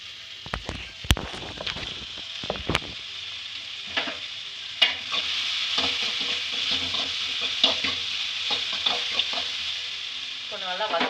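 Onions with salt are sautéed in a pan for egg masala semiya upma. Sharp spoon clanks and scraping stirs sound over a rising, steady sizzle that grows louder as the cooking goes on.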